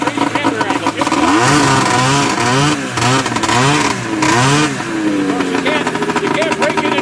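A 377 Olympique engine and exhaust ride around a yard, loud and close, the motor revving up and down in a series of rising and falling surges before settling into a steadier drone.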